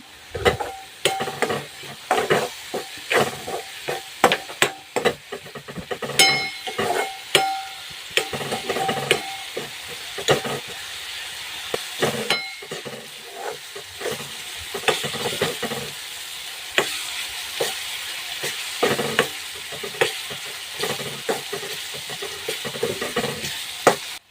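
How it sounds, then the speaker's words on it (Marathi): Bitter gourd roasting in a pan with oil, stirred and scraped steadily under a continuous sizzle, with frequent clinks and scrapes of a spatula against the pan throughout. "जोपर्यंत त्याचा कलर बदलत नाही तोपर्यंत छान अशी भाजून घ्यायची"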